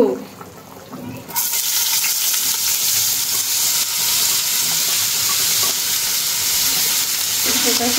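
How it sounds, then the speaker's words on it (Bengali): Potatoes dropped into hot oil in a home kitchen pan, a sudden loud sizzle bursting in after a quieter moment, then a continuous close hiss of frying that holds steady to the end. "আলু ভাজি করার জন্য আমার তেল দিয়ে নিলাম, আলুগুলো দিয়ে নিব"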